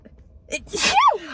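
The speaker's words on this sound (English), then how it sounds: "Oh my god, to sneeze." A single sharp sneeze with a quick inhaled build-up, loud and close, followed by a short voiced trailing sound.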